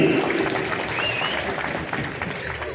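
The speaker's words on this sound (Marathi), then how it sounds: "एकदा जोरदार टाळी त्यांच्यासाठी" A crowd at a Mahayuti political rally in Phaltan bursts into loud, dense applause that holds steady throughout, with a faint whistle or shout rising above the clapping.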